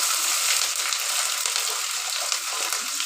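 Chopped onion and bay leaf fry in hot oil for jackfruit kofta curry, a dense, even, close sizzle with no talk over it.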